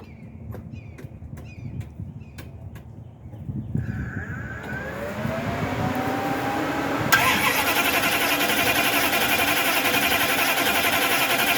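A carbureted truck engine with an Edelbrock four-barrel carburetor cranks with a series of short starter bursts, catches, and rises into a loud, steady running roar that holds to the end.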